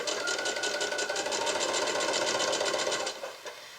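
A sewing machine top stitching a tote bag, a steady fast whirring needle rhythm running close and moderately quiet for about three seconds before slowing and stopping.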